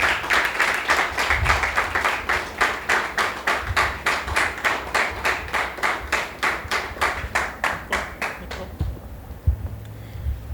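An audience at a talk on executive secretarial work claps in a steady, even rhythm that gradually thins out and fades near the end.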